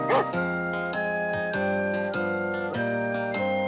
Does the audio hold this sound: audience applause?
no